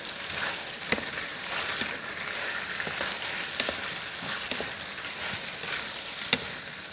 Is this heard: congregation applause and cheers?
no